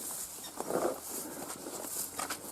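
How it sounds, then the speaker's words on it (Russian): Rain beginning to fall beside a river, a soft irregular patter of scattered drops close by, with faint light rustling and no voices. "Начинается опять. Дождь начинается."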